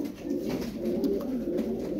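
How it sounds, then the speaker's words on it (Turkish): Colorful flight pigeons in a loft coo in a low, continuous murmur, several birds overlapping in soft rolling calls close by. "Rengarenk takım takım kuşlar."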